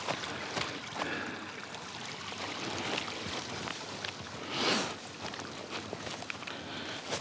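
A small brook on Anglezarke Moor flows beside a narrow single-track path, giving a constant close rushing and trickling wash with a few faint footfalls mixed in.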